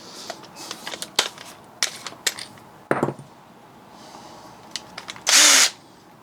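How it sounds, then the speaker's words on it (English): A power drill boring holes for brackets while repairing a dining chair, sounding in short close bursts with pauses between, ending in one louder, sustained high whine. "now I'm holding both brackets in place and I can drill the holes for the others much more efficiently and faster."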